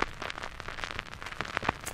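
Steady stylus hiss and crackle from a vinyl record playing a blank, unmodulated straight groove, a fine continuous surface noise with scattered tiny pops, heard alone.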